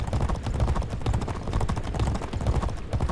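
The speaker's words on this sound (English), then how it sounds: "A few other horses now starting to move around us." Racehorses gallop in the G1 Jockey 4 (2008) video game, a dense, rapid drumming of hooves pounding continuously and loudly throughout.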